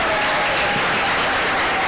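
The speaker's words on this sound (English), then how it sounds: "let's give them all a round of everyone, a round of applause" Applause from the audience at a council meeting, a dense, even wash of many hands clapping, continuous and fairly loud.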